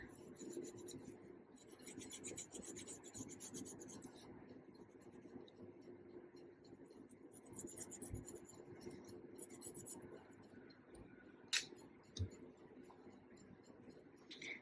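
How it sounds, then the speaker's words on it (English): Soft, continuous rubbing of pencil shading being blended and smoothed on paper, close and faint, with a couple of small taps near the end. "I'm just smoothing it out and gently just blending just a bit, not too much."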